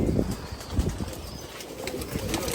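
Pigeons flapping their wings in a rooftop breeding loft at dusk, several short close bursts of flutter spread across a steady low background.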